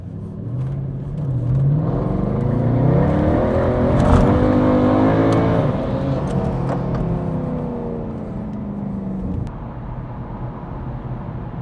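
A car drives along at speed in the evening, its engine rumbling and whirring loudly with rising and falling revs, steady road noise continuing throughout.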